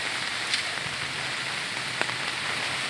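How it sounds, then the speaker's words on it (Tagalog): Light, steady rain from Typhoon Ulysses hisses on surfaces with a few soft drips standing out, no voices, in Barangay Cuayan. "Ang ulan ay di gaano kalakas,"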